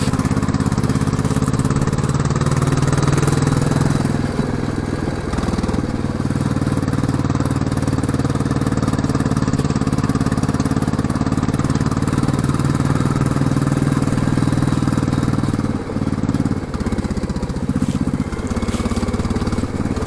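A Royal Enfield Classic 350 motorcycle's exhaust drones steadily throughout, a loud, rough mid-range rumble with some clatter, heard up close while riding a rough mountain pass road in the Berwyn Mountains.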